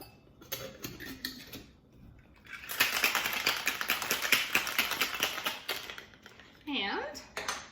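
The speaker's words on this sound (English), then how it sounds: "And then I'm going to shake this." A cocktail shaker holding a basil and plum syrup mix is shaken hard, giving a steady run of rapid rattling ice clatter for several seconds, with speech heard before and after.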